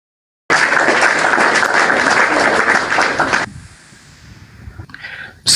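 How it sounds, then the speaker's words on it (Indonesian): A loud, dense burst of audience applause welcomes Bang Juma onto the stage, holding steady for about three seconds before cutting off to quiet room tone, with a brief flurry of noise near the end. "Berikan tepuk tangan yang gemuruh untuk Bang Juma."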